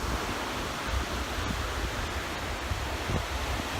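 Steady broadband rush of ocean waves and wind at an old wreck site near a swim buoy, with small 1 to 2 foot waves; a constant, close, noisy wash with no talking.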